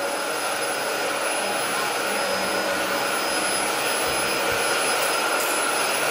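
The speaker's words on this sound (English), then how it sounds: "Vacuum all the rooms too while you're at it." A household vacuum cleaner runs steadily and loudly at close range in a home, holding a constant whirring roar throughout with no break.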